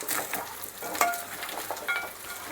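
Mutton fries Andhra style in a pan with a busy, close sizzle, punctuated by quick scraping stirs and a couple of sharper clinks.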